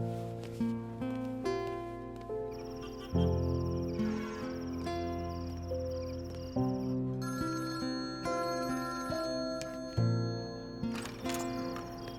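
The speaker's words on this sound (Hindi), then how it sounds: "ये आदि, जो फोन कर रही है, शायद सॉरी बोलना होगा उसे।" A phone rings with an incoming call, playing a bright melodic tone whose notes change in a steady repeating pattern, fairly clear and without talk over it.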